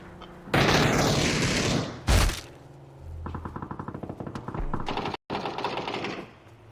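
Video game gunfire: a long loud blast, a sharp boom, then a rapid rattling automatic burst and further heavy volleys, close and dominant.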